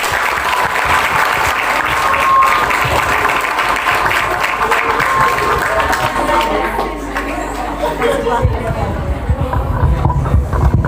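A large audience breaks into loud, sustained applause, with many hands clapping continuously close by and crowd murmur mixed in.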